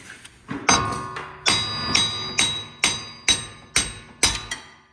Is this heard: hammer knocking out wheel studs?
yes